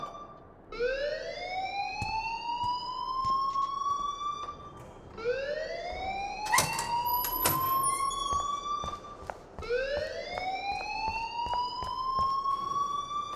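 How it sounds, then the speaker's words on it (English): A rising, wailing electronic alarm sounds in the video game Life is Strange, sweeping upward again and again in long repeated cycles, loud and continuous with sharp clicks mixed in. "please turn off that alarm since that's your job"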